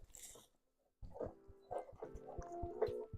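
A dog makes a few short, close whimpering yips and low grunting sounds in a quiet room after a brief pause, indoors near a person preparing for a comic convention.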